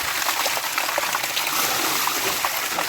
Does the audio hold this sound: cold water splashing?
yes